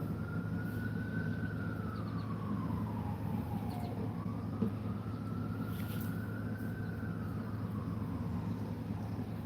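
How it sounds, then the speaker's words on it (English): Emergency vehicle sirens wail outdoors, faint and distant, their slow rising and falling sweeps drifting over a low steady background hum. "the sirens could go away already though."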